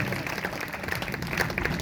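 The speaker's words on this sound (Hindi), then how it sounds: "जोरदार तालियां बजाएंगे, जोर से।" A church congregation applauding continuously during a Sunday sermon, a dense even patter of many hands clapping at moderate distance without pause.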